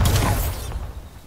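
A Bombarda blasting spell goes off in Hogwarts Legacy near Hogsmeade, a loud, close burst with a bright crackling onset that decays over about half a second into a fading rumble.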